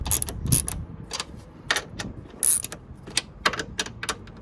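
Strut bar nuts being tightened on a Hyundai Veloster N, quick close ratcheting clicks and small metallic clacks in short irregular bursts.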